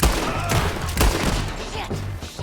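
Rapid bursts of gunfire from a Red Dead Redemption 2 shootout, several loud sharp shots close together over a dense background din of battle.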